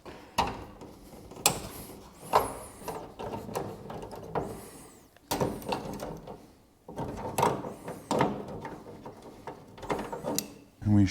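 A wrench works the two nuts off the door catch of a 1968 Ford F100 truck. Close, irregular bursts of ratcheting and metallic clicks are broken by short pauses.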